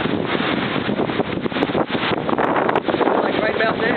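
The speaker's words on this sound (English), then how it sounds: "every now and then we get a good gust of wind," Hurricane Sandy winds gust hard over a canal with whitecaps, a loud continuous roar of wind buffeting the microphone close up for the whole stretch, while a voice seems to be mixed in beneath it.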